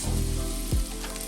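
Onions dropped into rendered pork belly fat, a brief burst of sizzling frying with a soft thump as they land in the pan, fairly close.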